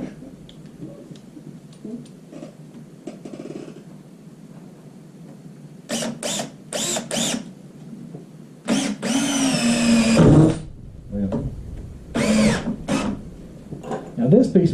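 Power drill driving screws into dry wood for a raised planter box, short whirring bursts of a few seconds each with pauses, mixed with talking.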